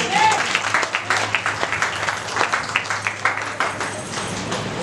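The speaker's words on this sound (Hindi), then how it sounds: "जोर से परमेश्वर के लिए तालियां बजाएंगे।" A church congregation claps together during a Hindi sermon, steady rhythmic handclaps close and loud, with a low hum underneath and scattered voices mixed in.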